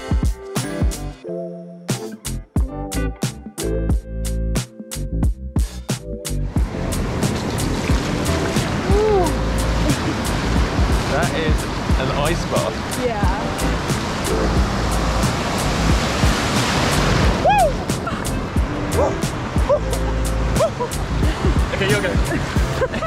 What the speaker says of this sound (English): We have come out to jump in the ocean because it's just too beautiful out.